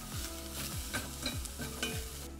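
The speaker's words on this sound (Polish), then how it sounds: "Szalotka po półtorej, dwie minuty, ona jest smażona, zobacz." Shallots fry in a pan for a white wine butter sauce, a continuous loud sizzle broken by regular scraping stirs with no voices.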